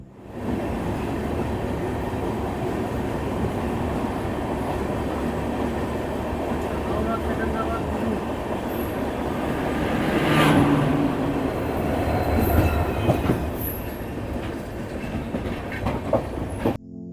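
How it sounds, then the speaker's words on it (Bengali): Tamralipta Express running from Howrah toward Uluberia on the Howrah–Kharagpur line, its steady rumble and rattle of wheels on rails continuous and loud throughout, swelling slightly midway, with faint voices in the background. "হাওড়া থেকে 32 কিলোমিটার পথ পেরিয়ে ট্রেন এখন এসে পৌঁছেছে তার দ্বিতীয় হল্ট উলুবেড়িয়া স্টেশনের 4 নম্বর প্ল্যাটফর্মে"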